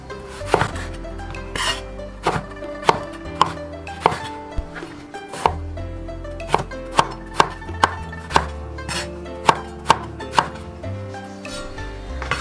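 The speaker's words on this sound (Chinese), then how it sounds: "再把茄子切成大概是5公分的长段， 再把茄子对半切开，" A knife chops eggplant into pieces on a cutting board, giving sharp, regular knocks, some in quick runs and others spaced apart, close and loud with no talking.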